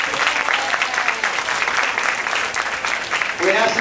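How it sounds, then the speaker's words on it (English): An audience at a Century Village gathering in Boca Raton applauds, steady and fairly loud clapping filling the whole stretch with a crowd murmur beneath and a voice briefly at the end. "let's do a quick applause for those guys"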